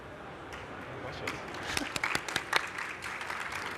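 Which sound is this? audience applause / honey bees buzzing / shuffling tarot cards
audience applause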